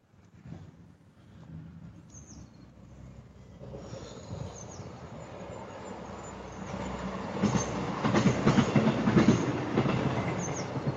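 A train rolls past on the rails at Chester, growing from a low rumble to a loud clattering roar with faint wheel squeals near the end.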